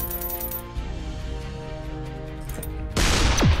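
Artillery shots in ShellShock Live, a sharp burst near the end after a ringing tonal stretch, with a falling whistle following the loud impact, no talking.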